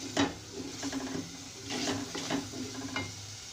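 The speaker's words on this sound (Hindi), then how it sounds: "टमाटर को आप इस तरह चमचे से दबा के कर लें" A spoon presses and scrapes tomatoes against a pan as aloo methi fries on the stove, soft sizzling under repeated scraping strokes, close and alone.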